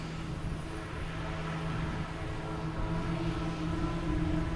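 A Cape Air airplane at Boston Logan Airport gives off a steady, continuous engine drone with a constant hum. It is loud and sustained throughout, with no talking.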